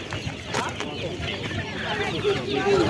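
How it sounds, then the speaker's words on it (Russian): Hens clucking in short, irregular bursts at a busy livestock market, with people chatting nearby and steady background bustle. "Курочки."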